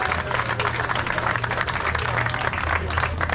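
Crowd applauding Ludo at an outdoor moped custom gathering, a short burst of steady clapping over a low background hum.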